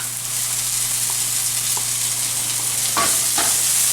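Steady oily sizzling as tinapa, a smoked fish, goes into frying garlic, with a couple of soft stirring scrapes near the end.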